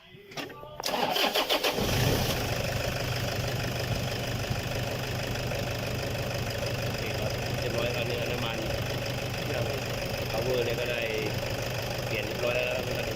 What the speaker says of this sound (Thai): เดี๋ยวเราลอง สตาร์ทดูครับ